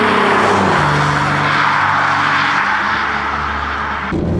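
A Dodge Stealth, a front-wheel-drive car, revs loudly in a drifting video game, its engine note climbing and holding in a steady, continuous drone.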